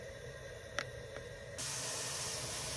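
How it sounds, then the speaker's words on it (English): Onions stir frying in hot oil over a high flame, a quiet steady sizzle that jumps into a louder, broad hiss partway through, with a couple of faint clinks of utensils before it. "I've been stir frying the onions"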